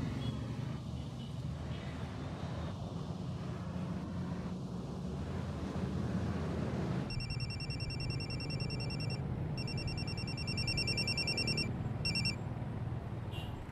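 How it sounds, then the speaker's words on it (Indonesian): A telephone ringing while a phone call is placed: after a stretch of low background noise, a bright, repeating electronic ring tone sounds in regular pulses with short pauses between them. "saya telepon dulu bos Saeb"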